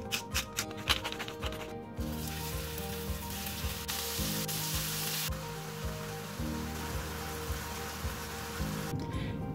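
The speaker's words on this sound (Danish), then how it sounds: "Inden jeg putter det på stegepanden, så putter jeg lidt salt og peber på" Chicken fillet seasoned with salt and pepper sizzles steadily in a frying pan, a dense, constant crackle like rain with a few sharper pops at the start, no voices over it.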